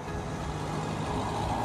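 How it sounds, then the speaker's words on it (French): A car on a two-way road goes by with a steady, moderately loud rush of tire and engine noise that holds throughout the short moment, with no voices. "une voiture qui passe."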